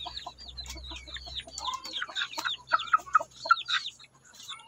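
Young native crossbred chicks sick with fowl pox make a busy chorus of high peeping cheeps and soft clucks, close by and clear, with a low hum at the start and no talking.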